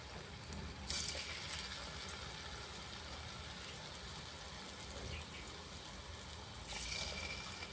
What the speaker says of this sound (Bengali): তেলটা গরম হয়ে গেছে, এবার আমি একটা একটা করে ফুলুরি ভেজে নেব।